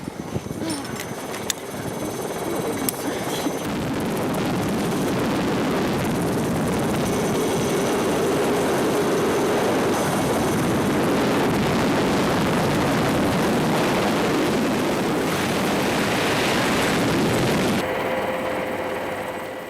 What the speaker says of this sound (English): The rescuer is winched up to the helicopter first.